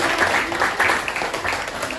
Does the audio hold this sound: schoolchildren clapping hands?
yes